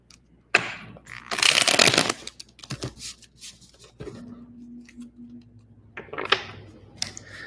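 Tarot cards being shuffled by hand, with bursts of riffling and soft slapping patters close by, quiet gaps and a faint hum between them.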